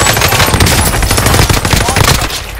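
Rapid bursts of automatic gunfire crackle loudly and continuously in a shooter video game's battle-royale match, dense and close with little pause.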